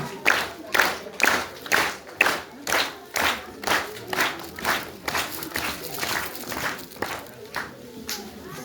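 A crowd claps at a kindergarten graduation ceremony, a steady rhythmic beat of roughly two claps per second that carries on for several seconds, with a voice speaking over it.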